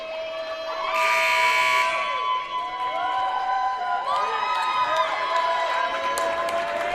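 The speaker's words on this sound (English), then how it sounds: "The crowd clapping for Wynn Brown." A crowd at a college basketball game between Greenville University and Webster University claps and cheers for a player in a gym, with a loud buzzer sounding and shoe squeaks amid the sustained applause.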